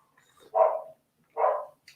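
Two separate dog barks from outside, muffled and somewhat distant, about a second apart in an otherwise quiet setting.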